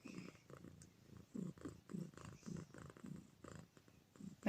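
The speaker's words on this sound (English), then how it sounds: "Little bit of Eric purr." Close, continuous cat purring with a regular pulsing rhythm of inhales and exhales, fairly soft and alone.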